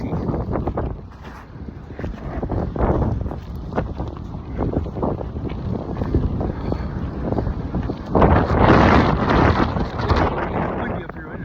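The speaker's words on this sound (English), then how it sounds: "Windy up here, isn't it, buddy?" Gusty wind blows outdoors at a high, exposed spot, a steady broadband rush that swells louder near the end, with rumbling buffeting on the microphone.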